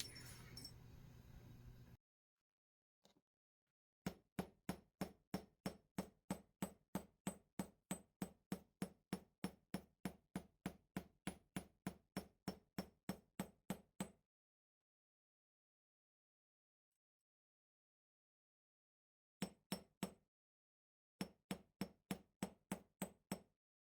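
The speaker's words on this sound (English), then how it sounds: "let's hit it with a hammer" A metal hammer strikes jewelry wire on a hard surface in a long run of sharp, evenly spaced taps, stopping briefly and resuming with a few more short bursts, close and clear in a quiet room.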